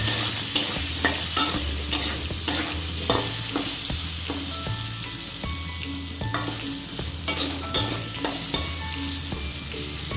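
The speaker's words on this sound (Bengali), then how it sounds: "লাল লাল করে আলুগুলি ভাজবো।" Potatoes frying in a pan with turmeric and salt, a steady close sizzle broken by regular scraping strokes of a spatula stirring them, with no talking.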